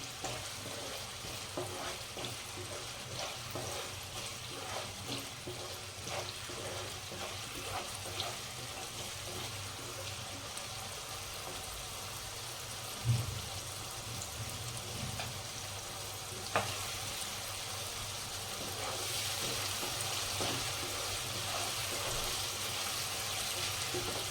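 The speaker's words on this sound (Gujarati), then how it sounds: "હવે આદુ મરચાં લસણની પેસ્ટ નાખીશું એક ચમચી એને થોડી શેકાવા દઈશું" Ginger, chili and garlic paste frying with onions in a pan for sev usal, a steady low sizzle with scattered stirring clicks and a couple of sharper knocks, quiet and close, no talking.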